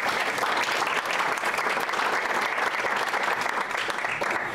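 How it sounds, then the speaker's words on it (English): Sustained applause from a conference audience in Iowa City welcoming a home healthcare company presenter, dense and steady clapping at full volume throughout. "Let's give a round of applause."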